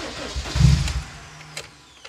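A car engine cranks and catches, a short low rumble that swells and then settles to a quieter idle, close by with no talking.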